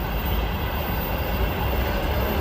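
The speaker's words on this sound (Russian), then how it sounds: "Такой длинный грузовой РЖД поезд." Long Russian Railways (RZhD) freight train rolling past a station platform, a loud continuous rumble of wagons and wheels on the rails with faint clatter, steady throughout.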